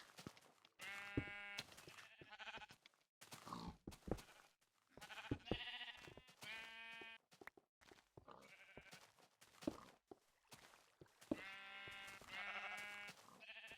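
Sheep in the Minecraft video game bleat over and over, several overlapping calls in quick succession, fairly quiet, with no one talking.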